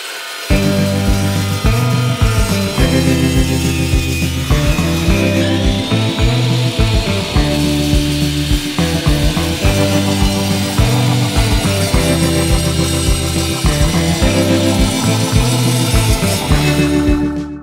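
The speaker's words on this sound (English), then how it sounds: "I'm going to get all the parts and pieces cut to the specifications that we have on the plans" A power tool cuts square steel tubing for a go-kart frame in a long, loud, steady grinding run that holds an even level throughout with no pauses.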